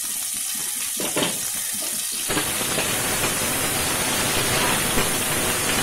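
Chopped onions drop into hot ghee and begin frying, a quiet stirring clatter giving way to a sudden, steady close sizzle that continues with soft bubbling and occasional scrapes.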